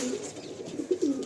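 Madrasi pigeons in a loft, adults among young chicks, give soft low cooing that swells into a couple of louder throaty rolls near the end, heard close and alone.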